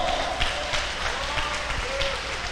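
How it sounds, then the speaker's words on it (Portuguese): A large church congregation applauds steadily, a dense wash of clapping from many hands that holds level without pause. "Pode aplaudir a Jesus nosso Salvador"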